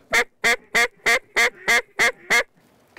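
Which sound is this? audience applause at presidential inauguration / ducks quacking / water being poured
ducks quacking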